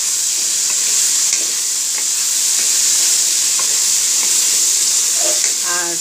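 Carrots and peas frying with chicken in a pan give a steady, loud sizzle with faint stirring scrapes and small pops, heard alone without talk.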